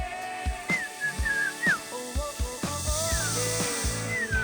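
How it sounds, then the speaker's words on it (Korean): Clear human whistled notes alternate with chirpy, sliding calls of birds replying over a steady hiss, the two trading phrases back and forth. "마치 화답이라도 하듯 새소리가 들려옵니다."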